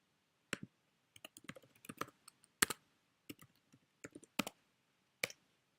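Quiet, scattered clicks of a computer keyboard as someone types login details, with short bursts of keystrokes and pauses between them in a silent room.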